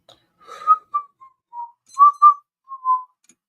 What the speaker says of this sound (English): it's bad luck to whistle at night